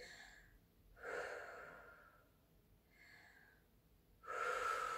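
Breathy exhales during a workout, several soft puffs of air spaced about a second apart, quiet and close with no talking.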